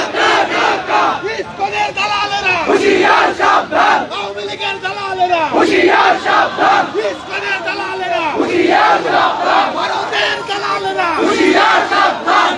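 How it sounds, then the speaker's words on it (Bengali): A large crowd of students chants slogans against ISKCON at night at Dhaka University, loud rhythmic shouted phrases repeating in waves, many voices in unison close by. "ইসকনকে নিয়ে কিন্তু তারা নানা স্লোগান দিচ্ছেন"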